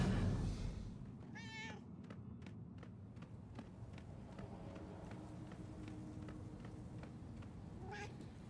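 A cat in the video game Murdered: Soul Suspect meows twice, once early and once near the end, both fairly faint against a steady game ambience with soft ticking footfalls.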